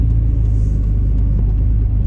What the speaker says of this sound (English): But the truck is back and running.